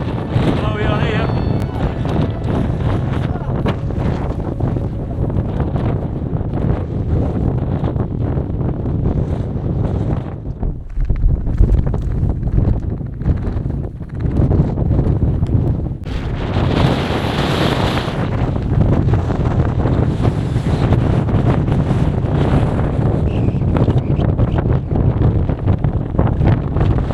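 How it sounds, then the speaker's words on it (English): Strong wind buffets the microphone on an exposed Pennine Way moor at Standedge, a loud continuous roar with gusts swelling throughout and a brief lull midway. "Standedge, and the wind's picked up."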